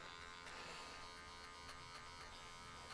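Electric hair clipper set around a 2.5 guard, cutting away bulk up toward the parietal ridge during a haircut, giving a steady, close, continuous buzz with no talk.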